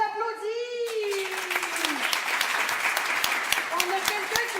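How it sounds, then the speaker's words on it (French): An audience breaks into brisk applause after a voice fades out, a dense steady clapping from a crowd with sharp individual claps standing out, lasting to the end. "Ben, on l'applaudit."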